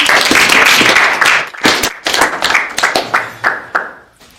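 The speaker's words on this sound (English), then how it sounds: "Everybody give a round of applause, please." An audience at a JROTC hometown-hero event gives a round of applause for a Cold War Navy submarine veteran, loud dense clapping that thins into scattered separate claps and fades out.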